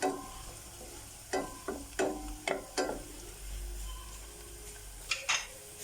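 Potatoes for aloo paratha frying in a pan, a faint steady sizzle under a series of close clinking stirs and scrapes of a utensil against the pan, with no talk.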